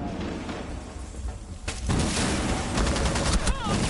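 Rapid gunfire bursts from a tactical shooter video game, loud and dense, picking up sharply midway and continuing in heavy volleys, with voices over the noise.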